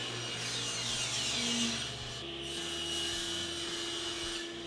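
A saw runs steadily through a cherry wood board, cutting it to final width for a triangular waste basket, a continuous loud buzzing whine with a slight pitch shift partway through, no voices.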